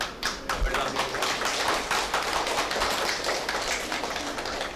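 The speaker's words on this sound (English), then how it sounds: "all of you just give yourself a big round of applause" Applause from an audience at the inauguration of a robotics laboratory: dense, steady clapping that holds at an even level for about five seconds, with no clear voices over it.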